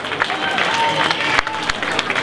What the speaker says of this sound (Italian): Prego, un applauso fortissimo.